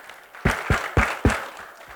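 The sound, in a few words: audience applause for panelists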